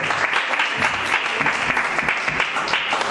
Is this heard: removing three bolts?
no